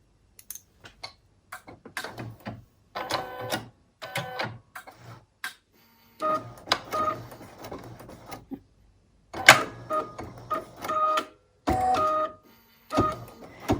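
A computerized embroidery sewing machine runs an outline stitch for a design, giving bursts of rapid, clicking needle stitching separated by brief pauses, close and fairly quiet, with no voices.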